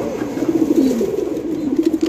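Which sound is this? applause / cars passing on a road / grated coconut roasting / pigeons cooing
pigeons cooing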